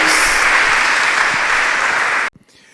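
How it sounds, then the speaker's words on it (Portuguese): A church congregation at a youth congress applauds loudly and steadily, a dense wash of clapping that cuts off abruptly near the end, leaving near silence. "Você pode aplaudir ao Senhor."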